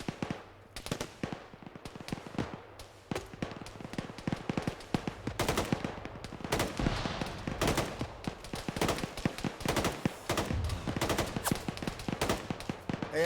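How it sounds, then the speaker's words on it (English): Dense rapid gunfire in a mock military operation among tree lines, many sharp cracks in irregular bursts, some close and loud, others farther off, continuing throughout without pause. "Hey, I think we're taking friendly fire."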